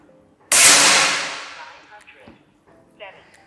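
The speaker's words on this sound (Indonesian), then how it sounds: "Ini tembakan yang kelima" A single sharp, loud crack of an FX Impact M4 air rifle shot with a hissing decay, followed by faint clicks and a brief low voice.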